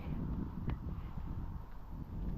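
Wind buffets an outdoor microphone on an ice-cold winter walk, a low, uneven rumbling gust with faint rustling and a soft knock now and then.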